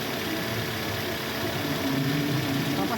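A Toyota Corolla engine with a high idle and misfire, running rough and shaking at idle as its mixture is closed down, a steady close rumble with no talk over it.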